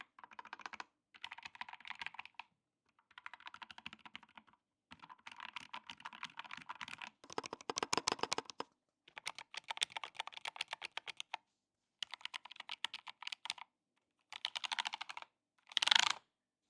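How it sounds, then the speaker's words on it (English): Close, crisp keystrokes on an Epomaker Luma40, a 410-gram CNC aluminum 40% keyboard with Kailh White Rain linear switches and dampening foam, typed in rapid bursts with short pauses and a louder flurry at the finish. "how does Kailh White Rain linear switches and dampening foam actually sound in real life?"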